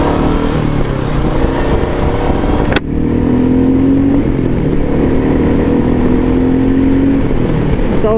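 A Royal Enfield Meteor 350 motorcycle accelerates on an open road ride out of town, its engine droning loud and close with rising pitch through the gears, a brief shift break midway, and no talk.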